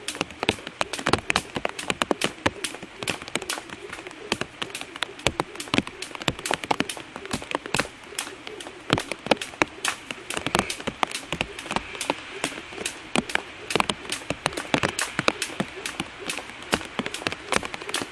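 Steady rain falls outdoors at an outdoor training ground, a dense, continuous patter of drops striking surfaces, with sharper individual hits scattered throughout and no talk.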